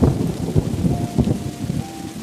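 Steady heavy rain with low rumbling thunder during a village thunderstorm, a dense continuous wash of sound that stays loud and close throughout without voices.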